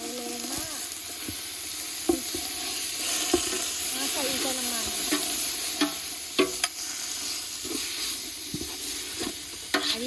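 Green curry paste stir-fries in a pan before coconut milk goes in, a steady sizzle with repeated scraping strokes of a utensil and sharp clinks against the metal, all fairly close and continuous.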